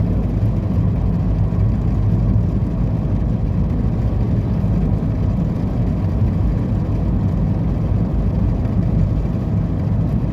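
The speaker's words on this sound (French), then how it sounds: "Vous devez entendre le vent aussi" A car driven with its window open fills the cabin with a loud, steady, low roar of wind and road noise that lasts throughout, with no talking.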